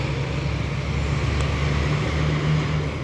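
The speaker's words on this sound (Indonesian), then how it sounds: "Selanjutnya bus Murni Jaya lagi" A Murni Jaya bus, number MJE151, passing on a road, heard as a loud, steady low engine rumble and road roar that stays fairly constant throughout.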